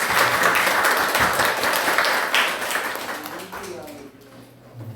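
A church congregation at a Good Seed Church union gathering breaks into loud applause after a prayer, thick clapping that thins and fades over about four seconds as a voice begins talking.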